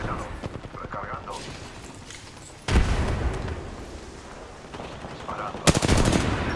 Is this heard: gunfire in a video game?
yes